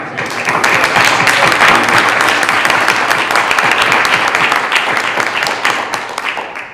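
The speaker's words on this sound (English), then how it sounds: "round of applause" A room full of people at a school committee meeting claps for a boys' troop, producing a dense, steady round of applause that holds at full strength for about six seconds before easing off.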